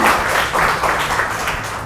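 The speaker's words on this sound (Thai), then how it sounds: "ปรบมือให้เพื่อนหน่อยค่ะ" A Thai primary classroom of children at a temple school claps for a classmate, a short burst of scattered, lively clapping that swells and ebbs without any talk.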